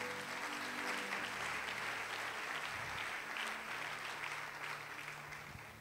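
A church congregation breaks into sustained applause during a French-language sermon, a dense wash of clapping that holds steady and then gradually fades toward the end.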